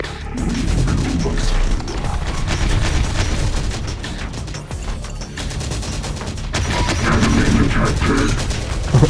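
Heavy gunfire and artillery in the video game Men of War Assault Squad 2 make a loud, continuous battle din of crackling shots, crashes and booms with no break, and no voices over it.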